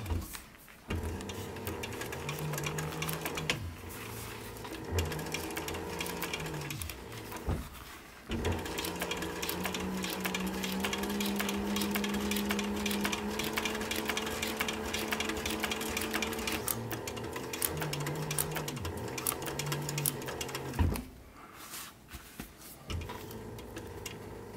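Sewing machine top stitching a short brim cap in bursts of rapid mechanical whirring and clatter, with short pauses between runs and a faint higher motor whine during longer passes.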